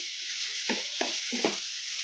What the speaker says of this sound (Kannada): ಈ ಥರ ಕಲಿಸ್ಕೊಂತ ಫ್ರೈ ಮಾಡ್ಕೋಬೇಕು.